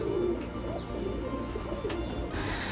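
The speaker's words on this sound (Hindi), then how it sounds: "पूरा छत हमारा कबूतरों से भरा हुआ है" Pigeons coo on a rooftop crowded with birds, soft low calls repeating over steady background noise, with no talking.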